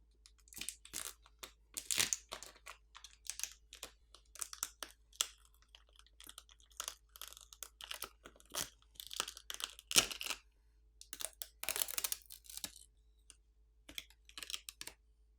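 Flex cables being peeled back inside a Xiaomi 14T Pro during teardown, giving a long run of close, dry crinkling, crackling and small tearing clicks in irregular clusters, with no talking.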